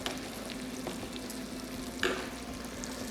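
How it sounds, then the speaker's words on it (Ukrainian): Bacon sizzles and crackles steadily in a hot pan for pasta carbonara, with a few sharper pops and a brief scrape partway through. "І обжарюємо бекон."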